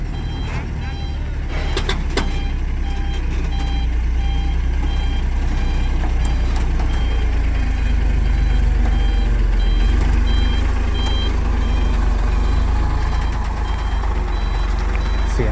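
A heavy diesel engine of a Kobelco SK200-10 excavator rumbles continuously nearby, with repeated reversing beeps and occasional metallic clanks over the steady drone.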